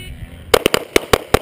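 Pistol shots fired at targets during a 3-gun match stage: after a brief quiet lead-in, six sharp, loud, close reports ring out in quick, slightly uneven succession.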